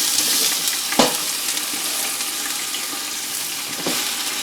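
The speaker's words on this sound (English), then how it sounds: "As soon as you hear it starting to sizzle, start putting celery and leeks into each pot." Celery and leeks sizzle in a hot pot, a steady close hiss of frying with a couple of brief clinks or stirs, no talking.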